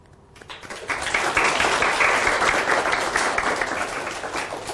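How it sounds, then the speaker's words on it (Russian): An audience at a presentation breaks into applause that swells quickly after a brief quiet start and then holds as loud, dense clapping to the end. "Спасибо за промежуточные аплодисменты"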